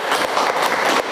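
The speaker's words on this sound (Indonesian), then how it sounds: "Luar biasa, tepuk tangan semuanya." A burst of applause from a group, dense clapping that swells and continues throughout, fairly loud and close.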